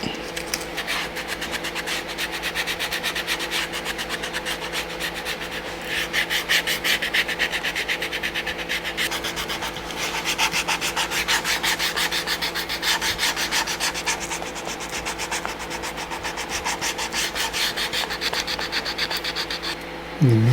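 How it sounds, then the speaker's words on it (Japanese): Sandpaper, used with water, rubs in quick repeated strokes along the leather welt edge of a handmade shoe, a close, steady scratchy rasp that grows louder midway and stays rhythmic throughout. "次は紙やすり。"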